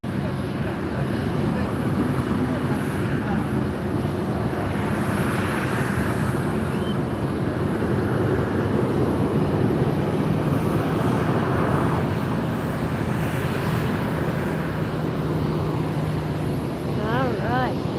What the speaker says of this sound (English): DC-3. You see it taxiing?